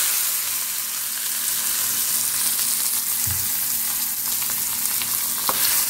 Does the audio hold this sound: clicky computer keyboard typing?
no